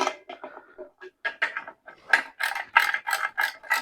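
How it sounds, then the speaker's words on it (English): Mechanical clicking from a ratchet wrench tightening the bolts of a Holley 302-2 oil pan, close and fairly quiet, coming in short irregular runs that grow denser and louder toward the end, with no talking. "snug the bolts by hand, starting with the center and working towards the front and the back"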